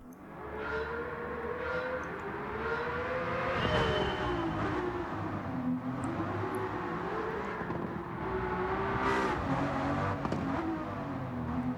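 A V12 car with a modified exhaust idles and revs outside, its deep throbbing drone rising and falling in several smooth swells over about twelve seconds, loud and close, with no talk.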